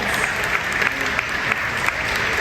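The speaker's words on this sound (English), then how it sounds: "One more round of applause for everyone." Audience applause at a cosplay competition at Sonic Expo 2024, a steady, fairly loud wash of clapping from the crowd filling the whole moment, with voices faintly mixed in.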